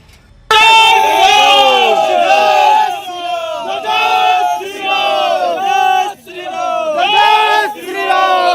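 A large crowd of Vishwa Hindu Parishad and Bajrang Dal activists shouts and chants in uproar outside a police station in Kanpur, with loud overlapping voices rising and falling in repeated surges.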